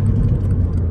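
A Ford Fiesta ST+ engine runs loud and close with a steady low mechanical drone, revving toward 4000 rpm during a short burst.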